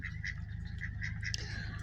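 Soft, repeated high peeping calls of ducklings kept with mute swans, over a low steady hum, fairly faint and close together.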